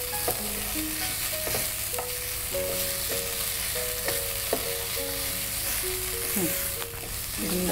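Food frying in a pan on a cooking show, with coconut added before the gravy, gives a constant sizzle with stirring scrapes, overlaid by background music tones and no clear talk.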